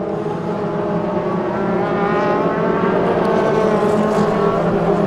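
Several Toyota MR2 race cars circle Rockingham in a championship race, their engines a loud, continuous, steady roar, with cars running close together and no pause in the noise.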